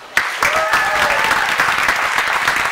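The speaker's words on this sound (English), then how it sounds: "give you all, yourselves a round of applause for supporting live comedy" A comedy club crowd at a live stand-up show in Los Banos, California breaks into loud, dense applause that starts abruptly and holds steady, with scattered whoops rising over the clapping.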